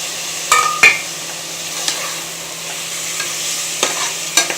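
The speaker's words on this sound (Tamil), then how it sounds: "ஓரளவு இஞ்சி வெள்ளைப்பூடு பச்சை வாடை போகிற மாதிரி வதங்கிடுச்சு" Ginger-garlic paste sautéing in a pan for mutton gravy, a faint background sizzle with a few sharp clicks of a utensil striking the pan.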